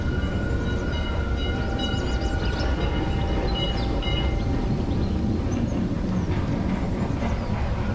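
A tram rolls steadily along its rails, a continuous rumble with faint metallic squeals and clatter, loud and close throughout with no voices.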